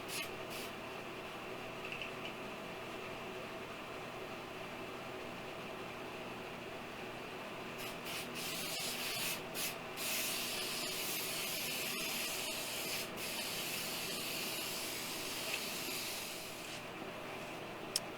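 Spray finish going on a wooden bench in two coats, a steady close hiss that runs throughout with a few brief louder bursts partway through, no talk.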